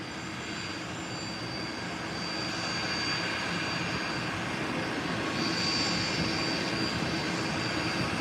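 A business jet that has just landed, arrived from Florida, taxis into a private FBO at an airport; a steady, loud engine roar with a whining high tone holds throughout, alone without talk.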